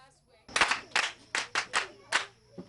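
A group of schoolchildren in Ghana clap together in a rhythmic cheering pattern for a classmate, six or seven sharp, close bursts following a brief quiet start.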